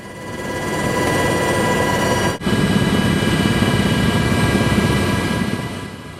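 Presidential helicopter taking off on a trip in France, a loud sustained engine roar and rotor drone with a brief dip midway, steady and near throughout.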